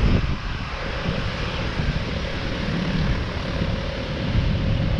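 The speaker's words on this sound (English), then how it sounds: "Seven three seven. We are taxiing in" A Boeing 737 airliner taxiing at Cape Town International Airport gives off a steady, loud engine roar and whine that holds constant throughout, with no talk over it.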